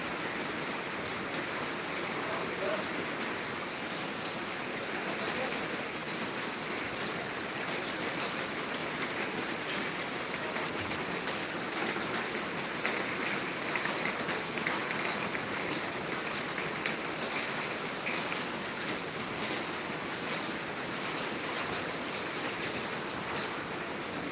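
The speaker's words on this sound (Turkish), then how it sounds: "Yağmur durmayacak gibi burada rehin kaldım." Steady rain falls on the streets of Marmaris, a continuous broadband hiss with no breaks, moderately loud and even throughout, with no voices.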